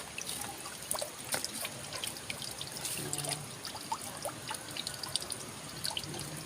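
Water runs from a tap for washing dishes at a house in Davao de Oro, a continuous close trickle with scattered drips and splashes and no voices.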